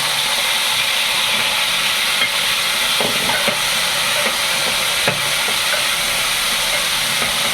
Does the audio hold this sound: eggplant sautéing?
yes